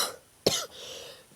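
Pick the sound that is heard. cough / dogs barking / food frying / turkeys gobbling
cough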